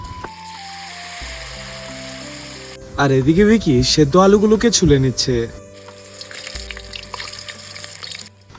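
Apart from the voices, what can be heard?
leaf fritters frying in mustard oil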